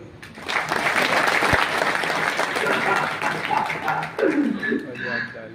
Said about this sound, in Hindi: ये बात तो ऐसी है जिस पे ताली बजनी चाहिए।